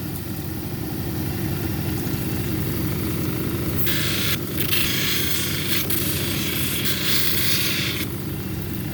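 Lapidary grinding wheel at 280 grit shaping an orbicular jasper cabochon, a continuous steady whirring drone with bursts of wet, hissing grinding as the stone is pressed to the wheel.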